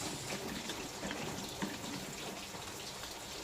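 A little water pours into a cooking pan while making escabeche sauce, a faint, steady splashing wash of liquid heard close up without talk.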